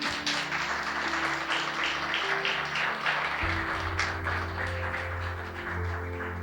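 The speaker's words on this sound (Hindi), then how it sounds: "उन लोगों के लिए एक बार ताली बजा देते हैं।" A church congregation applauds together in one steady round of clapping, with sustained musical tones underneath.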